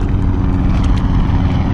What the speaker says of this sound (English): It's like a military Black Hawk helicopter.